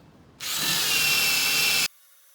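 An eraser wheel chucked in a drill spins up for about one and a half seconds of loud, steady whirring rub against automotive paint, then stops abruptly.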